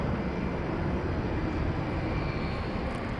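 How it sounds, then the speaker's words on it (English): A FedEx jet landed at DFW Airport at night leaves a steady, broad engine roar and rumble, continuous and fairly loud, with no voices over it. "There's the FedEx plane that just came in, or landed a short time ago"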